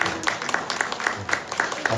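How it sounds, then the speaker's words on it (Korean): A small church congregation at Sunday morning worship claps to welcome newly registered members, a sparse, rhythmic patter of hands with soft murmuring underneath. "우리 환영으로 기뻐하며 박수하겠습니다"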